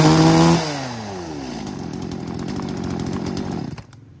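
A used Japanese-market vertical-cylinder chainsaw revs high, drops to a steady rough idle for a few seconds, then cuts off, heard up close with no talking.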